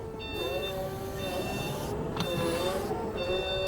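A steady electric whine with high tonal hums and a faint pulsing beep from a Lift Hero CPD100 22,000 lb electric forklift reversing slowly, no engine rumble, continuous and fairly close.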